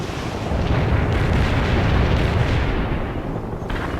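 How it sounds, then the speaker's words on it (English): A napalm strike explodes in the war game The Third World War, a dense, roaring burst of fire and rumble that swells and holds for several seconds, loud and low-heavy, with no voices over it. "Napalm strike successful."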